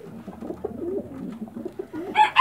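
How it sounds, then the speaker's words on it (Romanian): Pigeons coo repeatedly in a loft where males and females have just been separated, the soft warbling calls running continuously with a brighter flutter or call near the end. "astăzi am desperecheat"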